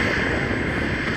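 Buzzing drone of a FMS 1400mm F6F Hellcat model airplane's electric propeller, sounding damaged, heard outdoors as a steady, rough, loud whir with wind noise on the microphone.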